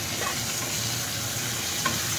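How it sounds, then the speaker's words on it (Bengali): Onion, tomato and boiled potato being stirred together in a hot pan, a steady close sizzle and frying hiss with faint scraping of a spoon, no voices. "ভালো করে মিশিয়ে নেওয়া হচ্ছে, আর তার সাথে দিয়ে দেওয়া হচ্ছে সেদ্ধ করে রাখা আলু"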